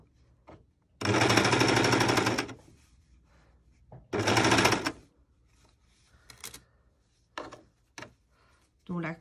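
A sewing machine stitches a T-shirt in two sustained bursts of rapid whirring, followed by shorter clicks and knocks of handling, with brief pauses between.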